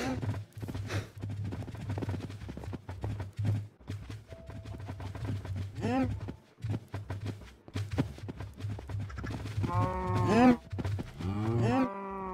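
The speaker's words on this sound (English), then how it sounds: "I got so many cows!" Minecraft cows crowd together and give repeated low, drawn-out moos that overlap at close range, with a thick burst of calls near the end and no talking.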